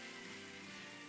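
Rainfall in the video game Pokemon Shield makes a soft, steady hiss that stays faint and even for a brief moment, with a quiet musical drone underneath.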